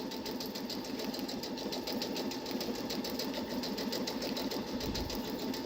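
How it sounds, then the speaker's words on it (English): Brother SE 625 sewing machine running steadily, stitching forward and reverse with a fast, even needle rhythm, close and alone. "let's go ahead and press the start button. Let's watch it. See, it's forward, reverse, and then it's moving forward doing the stitch."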